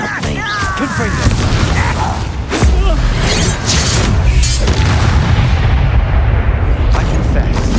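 Confringo blast spells exploding in the Hogwarts Legacy video game, heavy booming detonations and crackling debris amid combat effects, with a voice shouting under the noise.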